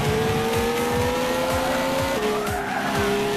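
A car in Gran Turismo 6 revs hard and drifts, with a loud engine whine climbing through gear shifts over sustained tire squeal, close and continuous.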